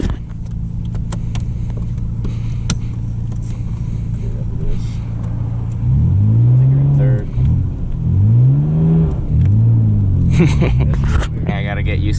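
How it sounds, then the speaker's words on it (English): A Nissan R32 GTR drives from the cockpit, its engine rumbling steadily and then climbing through several rising revs as it pulls through the gears, with people talking over the sound. "this is gonna be driving the R32 for the first time"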